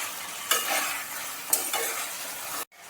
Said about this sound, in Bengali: মাছগুলো দিয়ে 1 মিনিট মতো একটু কষে নিয়ে তারপর একটু জল দিয়ে দিতে হবে